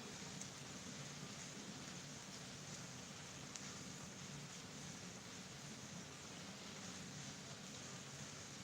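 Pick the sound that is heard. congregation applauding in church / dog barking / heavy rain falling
heavy rain falling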